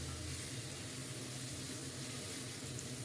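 Eggplant frying with turmeric and salt in a pan gives a dense, steady sizzle, like hissing spray, close and unbroken throughout with no separate stirring strokes.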